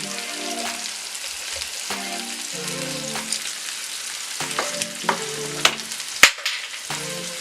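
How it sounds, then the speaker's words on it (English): Saltfish stir-frying in a pan with seasoning added, a steady crackling sizzle running throughout, with a few sharper pops and scraping stirs, no talking. "Now we stir fry this for just about another minute."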